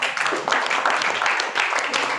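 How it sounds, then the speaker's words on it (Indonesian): A classroom full of students applauds group three, a dense, close burst of hand clapping that keeps a steady, slightly uneven rhythm for a couple of seconds. "kita kasih tepuk tangan untuk kelompok ketiga"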